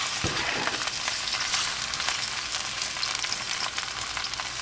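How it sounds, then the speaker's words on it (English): Starchy green plantains, partly ripened toward yellow, fry in hot oil with a steady, bright sizzle and occasional crisp pops, close by and continuous without any talking. "we're going to start off frying up some plantains"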